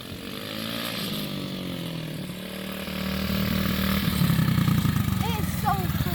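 A dirt bike engine revs and rises in pitch, buzzing loud and close with wind noise over it, and a voice can be heard briefly toward the end.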